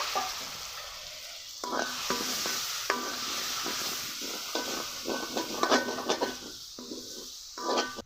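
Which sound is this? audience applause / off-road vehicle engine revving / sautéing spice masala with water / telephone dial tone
sautéing spice masala with water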